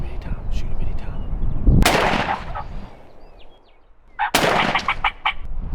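Two loud shotgun-like blasts ring out during a Wyoming spring turkey hunt, a few seconds apart, with turkey gobbles and hushed talk around them outdoors.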